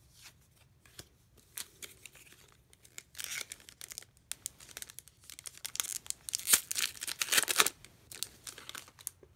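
Crinkly tearing and rustling as a Rivals of Ixalan trading card pre-release kit and its foil packs are ripped open, with scattered bursts building into dense, close crackling toward the end.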